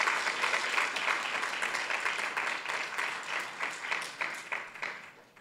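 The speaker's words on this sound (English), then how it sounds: "Okay, you can clap a little bit." Audience at a school poster awards ceremony clapping for a student recipient, a moderate, steady patter of hands that gradually thins out, fairly close and without talk.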